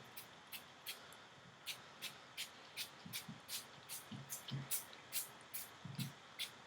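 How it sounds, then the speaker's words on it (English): A spray bottle mists hair in short, faint bursts, about a dozen quick hisses in an irregular rhythm, heard close but quietly with soft handling noise in between. "focus the spray on the areas that are squished the most, but I make sure to mist all of my hair"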